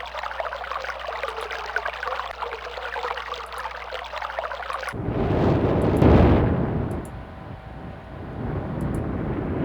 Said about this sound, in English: Okay, so we found a water sound.